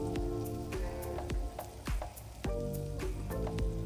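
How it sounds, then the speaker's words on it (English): Minced garlic sizzles in olive oil and melted butter for a lemon garlic sauce. The frying hiss is steady and soft, with a few sharper spits and pops, and background music plays underneath it. "Then goes some minced garlic."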